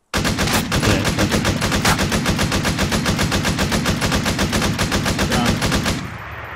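Machine gun fire in a video game hammers out a long, rapid, evenly spaced burst at close range and loud volume for about six seconds, then cuts off abruptly.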